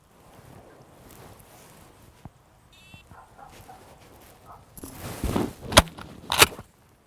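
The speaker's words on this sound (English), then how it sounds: "now we're going to shoot right over her." A sharp, muffled pop from a shotgun primer fired over a retriever during field training bursts out near the end amid a quiet outdoor scene with faint rustling and a brief beep earlier.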